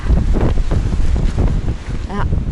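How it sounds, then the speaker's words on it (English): Strong wind gusts buffet the microphone in Joshua Tree National Park, a loud, rough roar that rises and falls for the whole stretch. A faint voice is heard briefly near the end. "the wind is quite strong."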